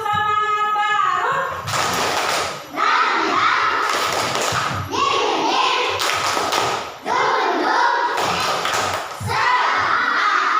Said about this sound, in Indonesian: Kita beri tepuk semangat baru ya.